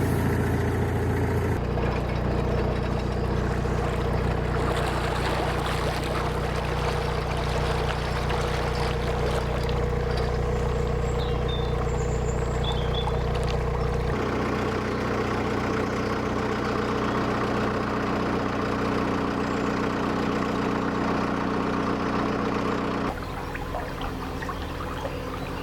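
A narrowboat's diesel engine idles steadily on the Grand Union Canal, a continuous low throbbing hum with mechanical rattle, near and constant, shifting pitch slightly partway through with faint water sounds beneath.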